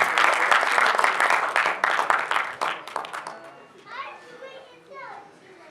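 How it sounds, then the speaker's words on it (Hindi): Audience applause at a conference program at an arts center, loud dense clapping that fades out over a few seconds, with voices and children's chatter mixed in and a faint speaking voice at the end. "आप सबकी ढेर सारी तालियों में"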